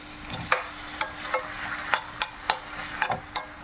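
Mango pieces sautéing in hot oil in a pan with curry leaves and salt, a soft steady sizzle broken by regular scraping stirs, close and clear with no talking.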